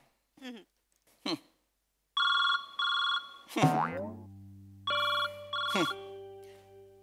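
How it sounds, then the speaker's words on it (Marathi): A telephone rings in repeated electronic bursts, loud and close, interleaved with comic boing-like sound effects and brief voices on a comedy sketch stage. "जरा बाहेर जा, माझ्या नवऱ्याचा फोन येतोय."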